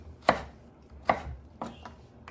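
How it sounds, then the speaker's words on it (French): A knife chops through courgettes on a board for a stuffed calamari dish: two sharp close cuts, then two lighter taps, spaced unevenly with no one talking. "on va commencer à couper les courgettes"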